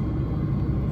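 Steady, heavy low rumble inside an airplane cabin as the plane begins its takeoff, a continuous dense roar with no breaks and no voices.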